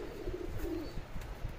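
Pigeons coo softly and repeatedly nearby, a low warbling call in a quiet setting.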